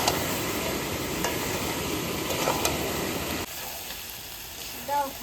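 A paste of ginger, garlic, dried chilli and cumin sizzles steadily in a pan for mutton curry, a close continuous hiss with faint stirring clicks that drops off sharply partway through.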